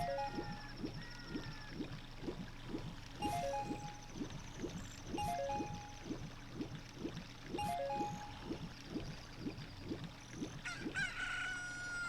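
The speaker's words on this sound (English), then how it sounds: "Look, a chicken hatched from the egg you were incubating." Game chickens from Zelda: Ocarina of Time cluck and crow in a steady, rhythmic chorus of repeated calls, fairly close and loud, with a higher bird chirp and a light watery background underneath; no one talks.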